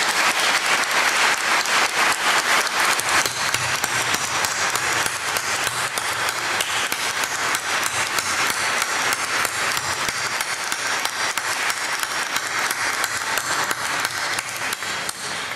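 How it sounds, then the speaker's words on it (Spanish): Audience applause at a tribute ceremony honouring working women in Grado, dense steady clapping from a large crowd that fills the whole stretch at an even, loud level with no pauses. "Un aplauso también para él."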